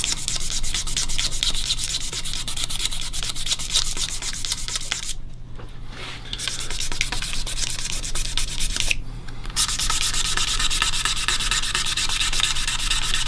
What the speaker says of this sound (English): I'm going to get a razor blade. Just scrape some of it out.